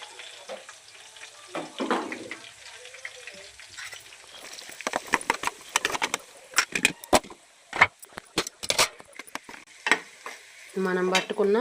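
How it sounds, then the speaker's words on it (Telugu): Mustard seeds, cumin, green chillies, onions and turmeric frying in a pan as a tempering for a vegetable fry give close, loud crackling sizzles and sharp stirring scrapes, sputtering irregularly throughout. "తాలింపు వేగుతుంది."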